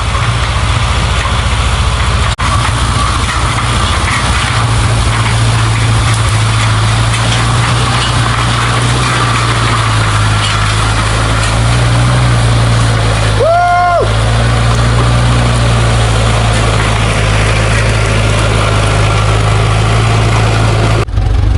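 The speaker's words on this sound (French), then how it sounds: "Bolon en action avec le râteur faneur." A tractor engine runs loud and close with a steady low idle-like drone while pulling a restored hay rake tedder, with a brief higher whine partway through.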